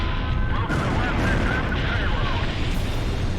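Cluster bomblets going off in the Ace Combat Zero: The Belkan War flight game, a dense, continuous rumbling roar of overlapping blasts that stays loud and steady throughout, with a voice partly buried in the din.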